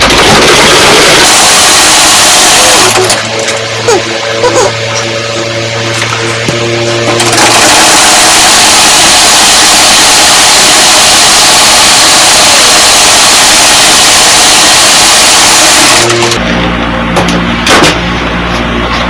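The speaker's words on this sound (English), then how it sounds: "keep sewing." A sewing machine stitches fabric for a two-piece outfit, with loud, harsh, close motor whirring that runs in long bursts separated by brief pauses.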